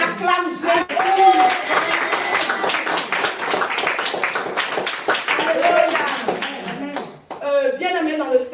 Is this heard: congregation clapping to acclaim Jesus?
yes